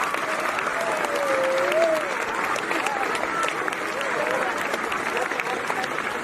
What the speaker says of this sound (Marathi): जोरदार टाळ्या प्रचंड टाळ्या वाजवा